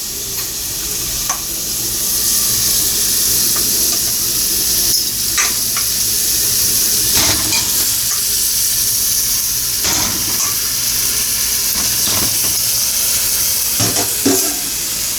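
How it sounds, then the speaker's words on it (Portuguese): Meat dropped into a pan of onion already sautéed in olive oil, frying with loud steady sizzling and hiss, broken by several sharp stirring scrapes of a utensil against the pan. "vou deixar ela dar uma fritada aqui dentro da panela"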